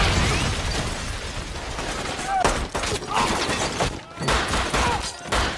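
Dense gunfire from a film shootout between two police officers and ISIS fighters, with rapid overlapping shots and bursts mixed with a loud, chaotic soundtrack.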